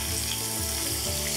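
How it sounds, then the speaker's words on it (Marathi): Onion, curry leaves, dried red chillies and green chillies fry in hot oil in a pan, a loud steady sizzle heard up close without talk. "आणि अर्थातच कांदा छानपैकी आपण परतून घेऊयात सोनेरी रंग."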